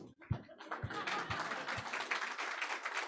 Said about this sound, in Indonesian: Kita tepuk tangannya putus asa